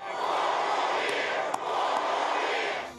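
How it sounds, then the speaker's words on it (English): A large rally crowd roars and chants in a steady, dense wall of voices that hardly dips for the whole stretch, with a brief sharp accent partway through. "Where the crowd chanted for him to fire his top infectious disease expert"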